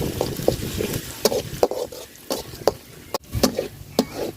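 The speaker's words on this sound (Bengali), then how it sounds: "রসুনটা আর পেঁয়াজটা আমি সুন্দর করে লাল লাল করে বাজিয়ে নিচ্ছি" Chopped garlic and onion fry in a pan with cardamom, cinnamon and bay leaf for a broken-rice dish; a spoon scrapes and stirs in steady repeated strokes over a constant close sizzle, with no talking.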